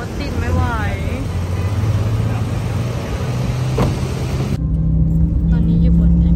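Loud, steady street traffic in the Philippines while waiting for a taxi in a jam, a continuous low engine rumble with a passing horn, voices talking throughout.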